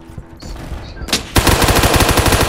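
Gunfire in the Roblox video game, with an assault weapon fitted with a shotgun: a few scattered shots, then a dense, rapid run of repeated bursts that carries on steadily to the end.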